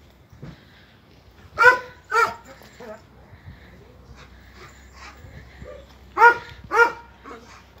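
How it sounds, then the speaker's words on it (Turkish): Dogs near Gölköy in Bolu bark in two pairs of sharp, loud barks separated by quieter stretches of rural background, on a November day with a wood stove burning nearby. "Köpekler iyice havlıyor."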